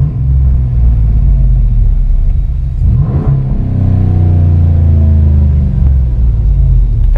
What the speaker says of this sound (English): basically now it's open. And if I rev it, I'm sure you guys can probably hear it.